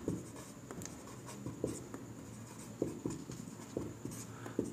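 A pen scratches across paper up close while a Class 8 math problem is worked out, producing soft, irregular strokes and taps over a steady background hiss, with no speech.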